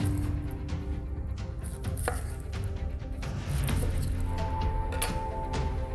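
Onions being cut in half with a knife on a board, a run of irregular crisp chops and taps at close range against quiet background noise, with no one talking.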